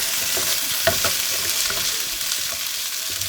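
Meat browning in its own rendered grease in a pan, a continuous close crackling sizzle with occasional soft stirring scrapes.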